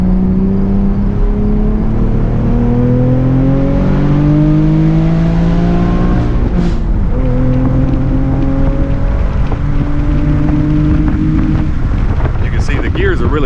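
2020 Camaro RS V6 1LE accelerating hard with a no-lift shift, engine note climbing in pitch, dropping at the gear change, then climbing again, loud and steady inside the cabin under wind noise.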